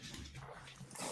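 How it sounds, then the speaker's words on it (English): A dog whimpers quietly, a faint, brief whine set against low background noise. "I think one of the dogs wants the story read as well."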